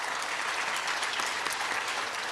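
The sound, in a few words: applause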